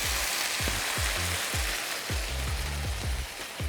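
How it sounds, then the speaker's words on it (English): Chicken and broccoli stir fry sizzles steadily in a hot carbon steel wok, a constant crackling hiss broken by repeated scraping strokes of a utensil against the pan. "You can really hear that sizzling away."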